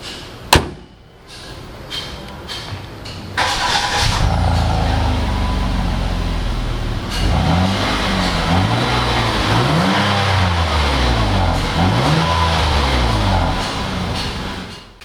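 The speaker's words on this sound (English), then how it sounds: "before we drive, I'll let you hear the exhaust." A 2015 Hyundai Azera with a 3.0L V6 starts up after a door thump, settles into a steady idle, then the exhaust is revved repeatedly in rising and falling blips, loud and close.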